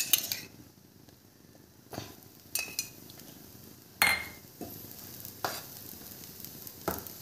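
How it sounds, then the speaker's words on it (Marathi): A dosa frying on a hot pan as ghee is added, with a soft steady sizzle broken by several sharp metallic scrapes and clinks of a spatula or spoon against the pan, close by. "बघा अर्धा डोसा होत आला की त्याच्यावर आपण तूप टाकूया."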